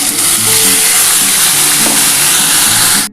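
Masala spices tipped into a hot kadai while cooking dry chilli chicken after the fried chicken pieces are removed, giving a loud, steady sizzle and frying hiss that runs continuously, then cuts off abruptly at the end.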